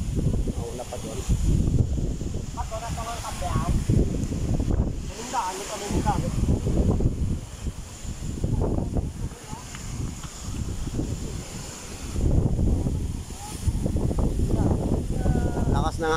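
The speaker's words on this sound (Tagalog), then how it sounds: "Lakas ng hangin." Strong gusting wind buffets the microphone on an open hilltop in Culasi, Ajuy, Iloilo as a storm approaches, a loud, continuous roar that surges and eases, with people talking over it.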